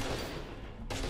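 Dense gunfire in the first-person shooter F.E.A.R. 2, a loud, continuous burst of shots that cuts out briefly near the end before firing resumes.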